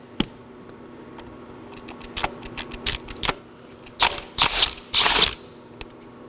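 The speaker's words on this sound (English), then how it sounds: "first we have a 10mm bolt. I'll be removing that right now" A 10mm bolt is loosened with a ratchet on the ignition coil of a 2013-2019 Nissan Sentra 1.8L four-cylinder, giving scattered clicks and then several louder bursts of rapid ratcheting, close and alone.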